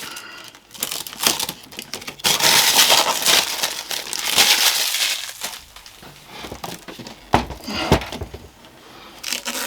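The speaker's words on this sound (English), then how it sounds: "it's absolutely surrounded by plastic. We'll slowly get it all off." Continuous crinkling and crackling of plastic packaging around a Canon printer being pulled and torn, close by, in bursts with brief pauses, no voices.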